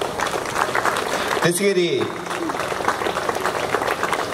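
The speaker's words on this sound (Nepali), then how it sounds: "कृपया तालीको क्रम नरोकियोस्" Audience applause at an outdoor stage ceremony honouring Mayor Harka Sampang: dense, continuous clapping from a crowd keeps going throughout, with a voice briefly speaking over it through the PA.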